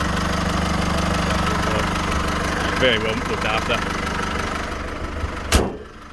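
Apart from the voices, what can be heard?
Holden Colorado 2.8 turbo diesel engine idling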